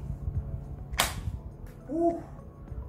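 A single sharp snap of an Inzer powerlifting belt's lever buckle clicking shut, brief and fairly close, over low background rumble and a faint murmur.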